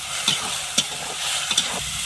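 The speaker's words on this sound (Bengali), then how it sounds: "ঢেঁড়সটা ভালো করে কষিয়ে নেব" Okra being stirred and fried with turmeric and chili powder in a pan: a steady close sizzle with a few sharp scraping stir strokes of the spatula, no voices.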